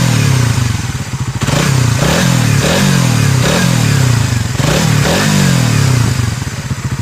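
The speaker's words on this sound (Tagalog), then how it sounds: "So tahimik na tahimik pa yung makina niyan." A Suzuki Raider 150 Fi motorcycle engine idles loud and close, its steady low rumble broken by a few brief rhythmic throttle blips, with no talk over it.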